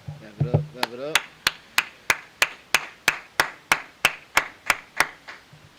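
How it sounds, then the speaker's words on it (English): A group claps hands together in a steady unison rhythm, about fifteen sharp, loud claps spaced evenly, following a brief burst of speech at the start during an Israelite School of Universal and Practical Knowledge brotherhood class. "Clap it up."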